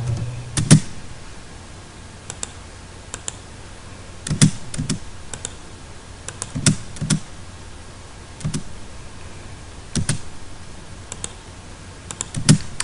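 Keystrokes and clicks on a computer keyboard while entering AutoCAD Civil 3D commands, arriving in short irregular bursts of taps and a few louder presses, close and clear with no talking.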